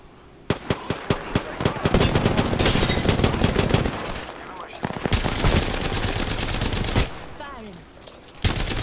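Rapid automatic gunfire from the video game Apex Legends, with sharp repeated bursts up close, sustained volleys and brief gaps, and faint voices underneath.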